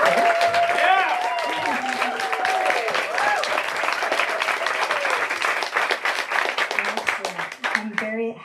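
A crowd at a book launch celebration breaks into sustained applause, with whoops and cheering voices rising over the clapping. It stays loud and dense until it tapers off near the end.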